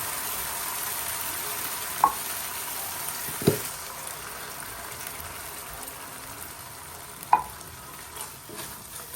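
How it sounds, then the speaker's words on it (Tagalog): Sardines sautéing in a pan with a little chili, a soft, steady low sizzle running throughout, broken by a few brief utensil clinks against the pan. "So, gigisahin natin itong sardinas."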